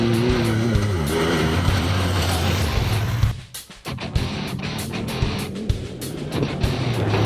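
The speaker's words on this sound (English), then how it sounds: "I'm ride testing what I believe is the best UTV you could have right now" A 2017 Yamaha YXZ1000R Sport Shift special edition UTV engine drones steadily at full load while riding, then drops off and gives way to bumpy rattles and knocks as the vehicle rolls over terrain.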